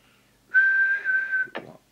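A single steady whistle into a CB radio microphone for a transmit test, held at one pitch for about a second, fairly close and clear, ending with a short tonal blip.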